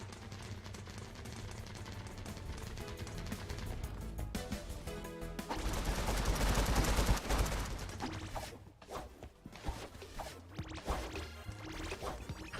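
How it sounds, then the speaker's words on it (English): Gunfire rattles through a street in the video game Crayta: bursts of rapid shots and impacts swell to a loud cluster midway, then trail off into scattered hits. "then you hear gunshots outside in the street"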